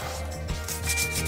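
Hand sanding of a part from a Sachs moped gives a close, rhythmic rubbing and scraping in repeated strokes, fairly quiet and with no voices.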